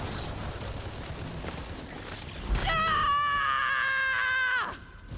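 A character in the video game Battleborn lets out a loud sustained scream lasting about two seconds, cutting in after a sharp impact and ending abruptly over game background noise.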